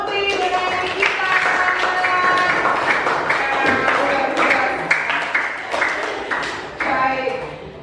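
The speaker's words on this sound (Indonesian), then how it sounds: "tepuk tangan untuk Putri dengan Nikita" Classroom applause for two students during a teaching practice session, a burst of clapping from a small group mixed with a voice and some tonal sounds, fading slightly toward the end.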